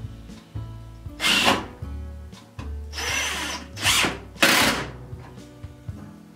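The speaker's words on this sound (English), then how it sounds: "Put the clearance holes for the screws in at an angle" A power drill bores angled screw clearance holes in a wooden jig built to hold a Norton oilstone, with several short loud bursts of whirring separated by pauses.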